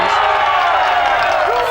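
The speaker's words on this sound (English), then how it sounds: "And that's the cheer as he gets that fish" A crowd at the 2004 FishOMania fishing competition cheers as an angler lands a fish, a dense and steady roar of voices and whoops that stays loud and close throughout.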